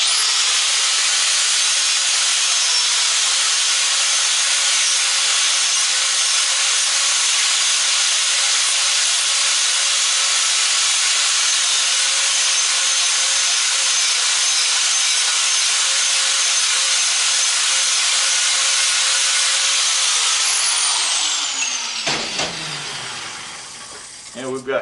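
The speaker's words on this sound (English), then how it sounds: "going to grab the angle grinder again, so go ahead and plug your ears" An angle grinder slices through an aluminum sidewalk light transformer holding copper windings, a loud, steady high-pitched cutting screech that runs unbroken for about twenty seconds, then winds down with a falling whine near the end.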